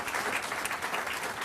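Audience applause for the moderator of an Oregon 3rd District candidates debate, a dense, steady wash of many hands clapping close by for the full stretch, with no voices over it.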